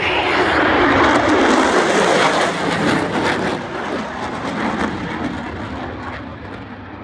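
Super Hornet fighter jets fly over at an airshow, a loud broad engine roar that holds steady and then eases slightly, heard from a distance with no voices over it.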